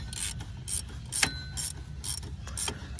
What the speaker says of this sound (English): Ratcheting wrench is really helpful.